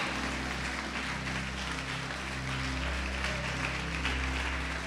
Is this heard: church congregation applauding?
yes